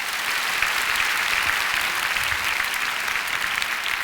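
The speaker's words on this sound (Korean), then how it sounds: "이렇게 큰 박수로 환영해 주셔서 정말 감사드립니다" A large congregation at a prayer gathering gives a missionary speaker a loud, sustained round of applause, dense even clapping filling the hall for about four seconds with no talk over it.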